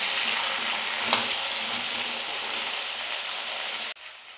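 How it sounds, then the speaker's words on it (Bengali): Vegetables frying in a pan with salt for a vegetarian curry with lentil fritters give a steady, close sizzle with one sharp tap early on, cutting off abruptly near the end. "লবণ দিয়ে ভালো করে এটাকে ভেজে নেবো"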